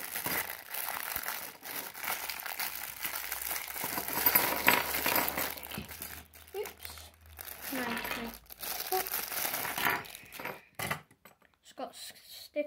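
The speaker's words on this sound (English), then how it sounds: "Now let's open this pack." A plastic-wrapped pack of Beyblade parts is torn open with loud, close crinkling and rustling in uneven bursts, broken by short pauses and a few faint clicks of small parts.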